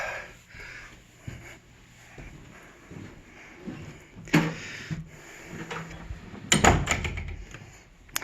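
An old house door opening, a few soft creaks and knocks followed by a louder clatter and thump of the door swinging, heard close in a quiet room.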